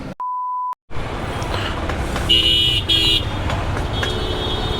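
Car horns beep in a Dhaka-area traffic jam, one clean sharp toot up front followed by a pair of longer honks amid steady road rumble, heard from a Honda CBR 150R motorcycle.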